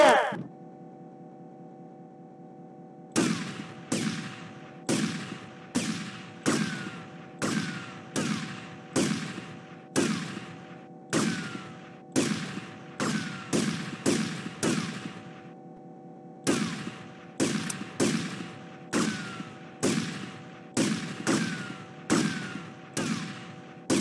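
Gunfire in GTA Vice City, a long series of sharp, loud shots in rhythmic bursts with short gaps and a pause early on, over a steady game background hum.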